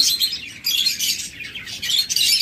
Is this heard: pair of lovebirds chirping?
yes